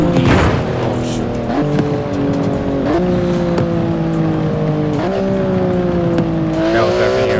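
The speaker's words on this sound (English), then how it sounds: "That was definitely a crash." Car engine revving and shifting through gears with tires squealing in a skid and crash in Forza Horizon 4, loud and close, with rising and falling engine pitch.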